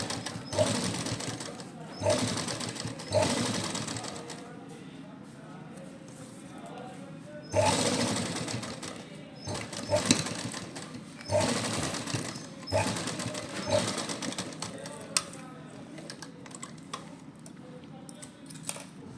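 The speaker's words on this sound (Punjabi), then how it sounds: "ਆਪਾਂ ਇਸ ਤਰ੍ਹਾਂ ਉੱਪਰ ਦੀ ਸਿਲਾਈ ਲਗਾ ਲਾਂਗੇ" An electric sewing machine top-stitches the neckline of a suit, running in short bursts with pauses between them, close and fairly quiet.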